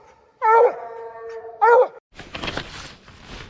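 Coon hunting dogs howl at night outdoors, two long drawn-out howls close by, then rustling and movement noise through brush.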